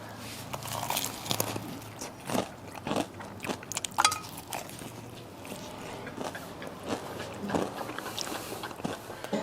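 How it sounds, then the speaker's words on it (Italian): Crunchy KFC-style fried chicken is bitten and chewed close up, with sharp crackling crunches arriving in repeated bursts and softer chewing between them. "Senti come scrocchia."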